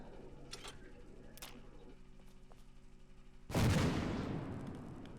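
Gunfire in the Fallout game: a few faint sharp shots early on, then one loud burst that decays slowly, with quiet mechanical ticking underneath.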